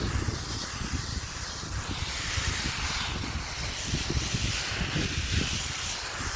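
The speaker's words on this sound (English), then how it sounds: "I'm doing a constant spray onto this" A continuous hissing spray runs steadily without pause, fairly close and even in level.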